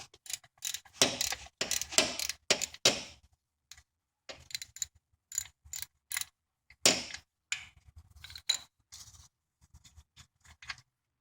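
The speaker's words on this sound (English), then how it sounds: "Take a 3/8 ratchet, it's a square hole, and you open that up" A 3/8 ratchet turns to loosen the transmission fill plug on a 2016 Dodge Challenger Hellcat with a TR-6060 manual gearbox, giving bursts of close metallic clicking and ratcheting with short pauses between the strokes.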